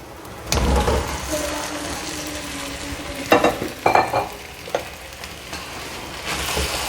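Potatoes tossed into frying chicken and masala for biryani, a continuous close sizzle with scraping stirs and a few clattering bursts as the pieces land and are mixed.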